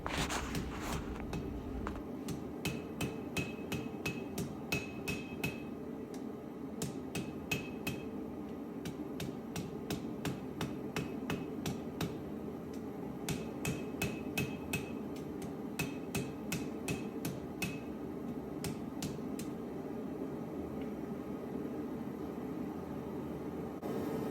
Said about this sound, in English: I use the round part of my farrier's hammer and I start to taper out the edge